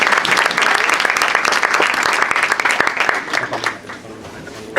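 A lecture audience at a talk on war in the Middle East and revolution in Kurdistan claps for comrades, a dense, steady round of applause that thins out and fades over its last second or so.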